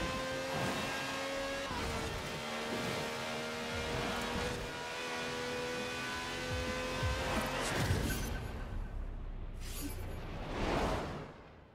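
A Ferrari F40 racing in Forza Horizon 4, its engine droning steadily with shifting pitch under continuous road and wind noise, ending in whooshing passes near the end.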